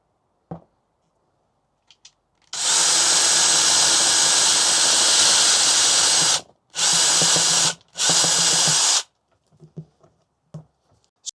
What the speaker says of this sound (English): Sorted out the drill, let's try that again.